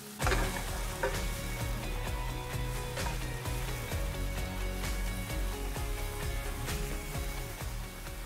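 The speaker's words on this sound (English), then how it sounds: "garlic and ginger, green onion. Cook for about a minute until deliciously fragrant" Garlic, ginger and green onion sizzle in oil in a pan, making a continuous frying hiss with stirring noises under steady rhythmic background music.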